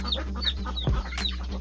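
Hen trying to escape a chicken coop, clucking close by in short repeated calls with a sharp squawk near the end.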